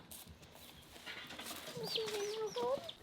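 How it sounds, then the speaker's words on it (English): Baby turkeys cheep in thin, high chirps, several short calls overlapping at a moderate distance with faint background rustling. "Cheep, cheep, cheep, cheep, cheep, cheep. Turkeys. Little baby turkeys."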